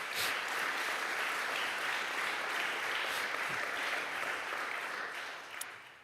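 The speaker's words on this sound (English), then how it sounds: "Can we also give a round of applause to all those who are not here" An audience at a community gathering about a property tax campaign breaks into steady, dense applause that holds evenly for several seconds before tapering slightly.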